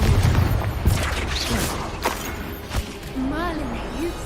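A spell explosion in the video game Hogwarts Legacy bursts with a heavy boom and scattered crackling pops, followed by a voice rising and falling over the fading rumble.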